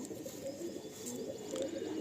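A female pigeon of the Andhra Lalsira Lambadi Fulsira kind in a loft gives soft, low, continuous cooing that stays faint and steady.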